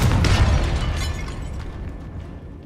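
Confringo explosion spell cast in Hogwarts Legacy, a loud bursting blast at the start that decays into crackling debris and a fading rumble over a couple of seconds.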